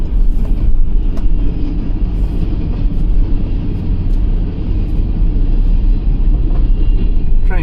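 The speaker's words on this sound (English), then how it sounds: "Train moving along pretty good." A train rumbles along nearby, a loud, continuous low roar with rattling wheels and steady motion, no voices.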